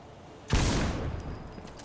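A single heavy blast of weapon fire from a barrel in the video game Outpost Infinity Siege, a sudden loud boom with a rumbling tail that fades over about a second.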